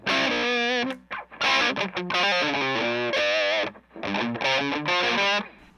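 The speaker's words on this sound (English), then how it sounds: "so I got it switched here over to the distortion channel." An electric guitar through the distortion channel of a Mesa Boogie DC-5 amp plays loud, crunchy chords and riffs in bursts with short pauses, heavily distorted, saturated and thick throughout, no voices.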